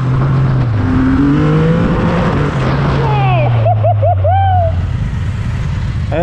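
A Triumph motorcycle revs hard and accelerates, engine pitch climbing and falling through sharp gear changes, loud and close while people talk over it.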